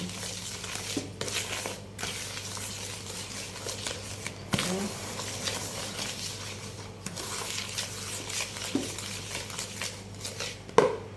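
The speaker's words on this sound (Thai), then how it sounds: "ให้ผสมไปทางทิศเดียวกันนะจ๊ะ" Homemade dishwashing liquid being stirred in one direction in a container, a steady wet swishing and scraping with occasional clinks and knocks throughout, fairly close and continuous, with a voice talking at times.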